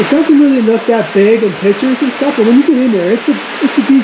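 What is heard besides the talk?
No distinct noise like a dog, phone or traffic.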